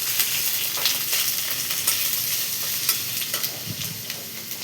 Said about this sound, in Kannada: ಸ್ವಲ್ಪ ಹುರಿದ ನಂತರ ಈರುಳ್ಳಿ ಹಾಕ್ತಿದ್ದೀನಿ